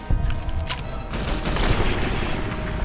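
A multi-plasma rifle in Fallout New Vegas firing a rapid volley of bursting energy shots, loud and continuous, with crackling hits and a thin high whine amid dense combat noise.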